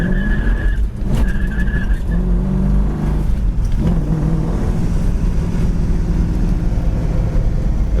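A 1967 Ford Mustang Fastback accelerates hard, its engine roaring loudly as the tires spin and squeal through the gear changes, with brief breaks between gears.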